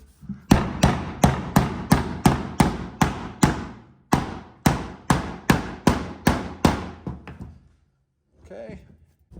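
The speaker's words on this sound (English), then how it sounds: "And then just get like a nice rubber mallet here." A rubber mallet taps a truck's trac bar bushing into place on a 2016 Ram 2500 diesel: about fifteen even, solid knocks at a steady rhythm, loud and close, with a short pause midway and a little trailing sound after.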